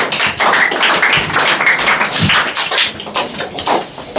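Close, loud clapping from a classroom of students in a spoken English class, a steady burst of overlapping hand claps filling the whole moment with no talk.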